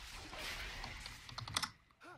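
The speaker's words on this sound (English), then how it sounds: "look at this clickety-clack that keyboard sounds" A computer keyboard clatters with rapid, close typing during a League of Legends game, keystrokes tapping busily for about two seconds before trailing off, with a faint tonal sound at the end.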